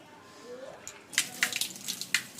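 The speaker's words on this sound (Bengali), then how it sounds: "ধুয়ে নেবো মাছটা" Tap water splashes in uneven bursts over a freshly cut and cleaned fish, close by, with a brief voice heard before the water starts.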